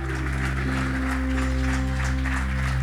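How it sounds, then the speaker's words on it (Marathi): A large audience claps at an award ceremony for a business and philanthropy honour, a dense, steady roar of applause that fills the whole stretch over a low electrical hum. "वासंती देव यांच्यासाठी जोरदार टाळ्या."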